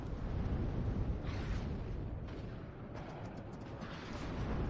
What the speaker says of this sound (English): there's gonna be some artillery raining down on them